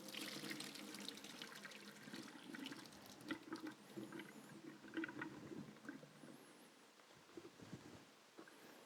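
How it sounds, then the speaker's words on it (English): Water from a pot of boiled potatoes for mashing pours out and splashes into a sink, a fairly quiet, uneven gush and trickle that tapers off toward the end. "I'll get rid of the water."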